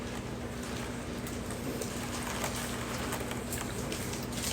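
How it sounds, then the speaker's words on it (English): Rain falls outside in a steady, even patter with no distinct drops standing out, a constant moderate hiss under a faint low hum. "It's raining outside and it looks really nice."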